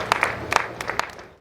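Scattered claps from a seated audience at a quantity surveyors' investiture ceremony, a few distinct separate hand claps over a quiet room, brief and thin rather than a full ovation.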